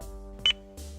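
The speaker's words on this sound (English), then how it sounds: "Wait until you hear a beep." A Lexus hands-free Bluetooth phone system gives a single short electronic beep, clear and close, over a steady low in-car hum, with no speech.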